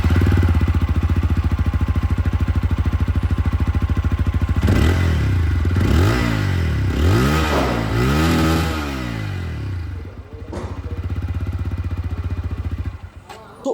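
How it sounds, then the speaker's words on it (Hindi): A TVS Apache 160 4V Anniversary Edition motorcycle exhaust idles steadily up close, then blips through several sharp revs that rise and fall before settling back to a loud idle, with one last brief rev at the end. "यहाँ तक आप लोगों ने जो एग्जॉस्ट साउंड है वो 164V की सुन लिया"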